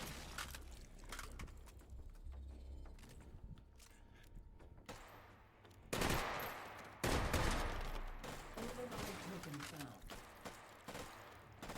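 A FAMAS G2 assault rifle fires in bursts during a competitive video game match. Sharp loud volleys stand out against steady in-game mechanical and ambient noise, with commentators talking throughout.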